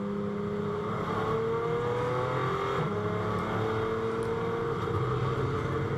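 A GT4 race car accelerates during qualifying at Misano, its engine a steady droning roar with rising pitch from the onboard position, continuous and moderately loud throughout.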